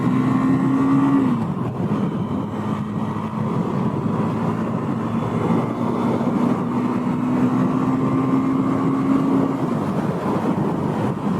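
A steady engine drone from a moving KTM Duke 390 motorcycle riding through smoke, with continuous wind and road noise, the engine pitch holding level with a brief shift.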